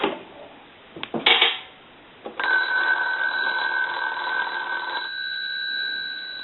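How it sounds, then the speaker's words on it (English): Wooden decorative wall telephone, just repaired and plugged in, with a few clattering handling knocks at first, then its bell ringing steadily and fairly loudly for several seconds alone. "let's go ahead and plug the unit in, and then we'll ring the unit."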